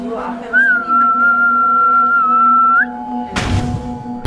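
An exorcist whistles through a house while searching for spirits: one long, steady, sustained whistle note after a short opening tone, ending just before a brief clatter and some low noise.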